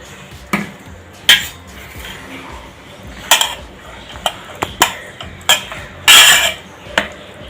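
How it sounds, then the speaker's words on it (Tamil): A metal spoon stirs and tosses lemon rice in a pan. Sharp, bright clinks and scrapes sound up close at irregular intervals, including one longer scraping clatter, with no talk. "இந்த மாதிரி கிண்டி விடணும். நல்லா சாதத்துலலாம் நல்லா பெரட்டி விடணும்."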